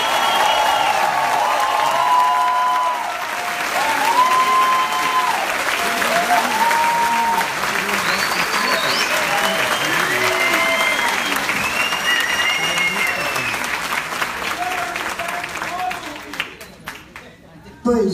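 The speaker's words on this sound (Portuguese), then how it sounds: "Podem aplaudir sem pena." At a concert, the audience gives long, loud applause with scattered cheers and whistles rising above the dense clapping, which holds steady before thinning and fading out near the end.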